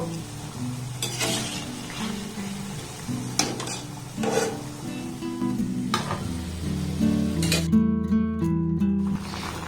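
Oil sizzles steadily in a pan as flour-and-sugar sweets fry, with occasional scraping stirs and a few clinks of utensil against metal, close and continuous.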